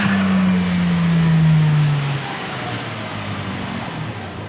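A car engine revs hard close by, a loud sustained whine that slowly drops in pitch before cutting back to a lower rumble for the rest of the moment, with no talk.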